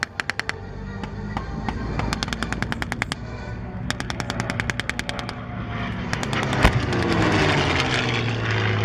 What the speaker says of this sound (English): 50 caliber machine guns, 3 on each wing